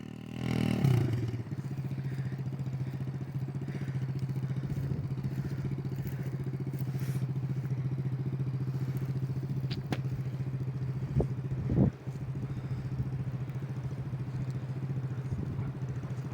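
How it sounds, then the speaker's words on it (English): A 50cc dirt bike idles close by in a steady, loud, low buzz with a slight clatter, holding even throughout apart from a brief dip near the end. "fixing to learn how to ride a dirt bike"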